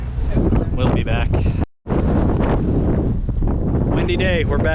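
Loud wind buffets the microphone in heavy, rumbling gusts, with a brief cutout midway and voices faintly audible beneath the roar.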